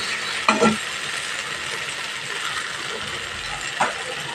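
Mixed vegetables fry in a pan with a steady, moderate sizzle throughout, broken by a couple of short clinks or stirring knocks near the start and end.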